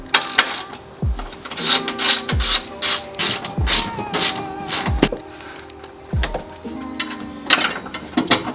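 A ratchet clicks in repeated quick strokes while loosening shock tower bolts on a 2022 Subaru WRX, with short pauses between runs of close, crisp pawl clatter and occasional metallic clunks.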